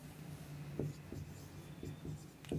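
Pen or chalk writing out a math problem on inequalities and triangle sides: quiet scratchy strokes in short irregular bursts, close and faint over a steady low background hum, with no speech.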